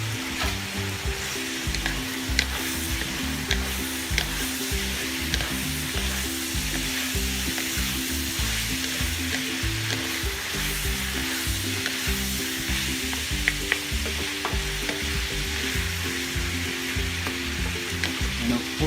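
Hot dogs sizzle in a frying pan while being stirred, a dense, continuous crackling fry with scattered scraping clicks from the utensil, close and steady throughout with no talking.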